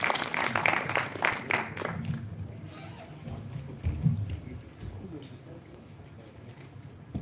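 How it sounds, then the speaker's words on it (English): Applause for an author at a book release in a hall, with a burst of many hands clapping at the start that fades over a couple of seconds into crowd murmur and someone speaking. "Please give him a big round of applause, sir."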